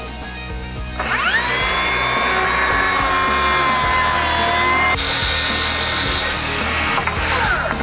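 A Milwaukee M18 FUEL 6 1/2-inch cordless plunge track saw makes a 22.5-degree bevel cut in wood. It spins up sharply into a loud, steady high whine through the cut, then winds down at the end.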